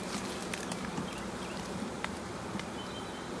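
Honey bees swarm around an open hive during an inspection, their steady buzzing hum filling the air alongside faint scattered clicks and taps, with no talking.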